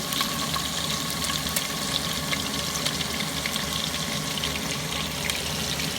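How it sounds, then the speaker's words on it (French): Beef meatballs and sweet potato frying in a pan, a steady close sizzle and crackle with faint pops running throughout, no voices. "je viens d'ajouter mes boulettes de bœuf et patate douce pour colorer"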